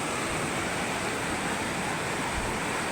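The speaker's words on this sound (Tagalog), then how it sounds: "lakas ng tubig mga idol" A strong mountain river in the highlands rushes hard, with steady, dense, close water roar and no voices.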